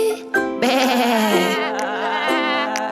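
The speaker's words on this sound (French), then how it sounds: "le mouton dit" A sheep bleats in a children's nursery rhyme, one long, wavering, nasal bleat held close and loud, followed by a second shorter bleat, with no talk over it.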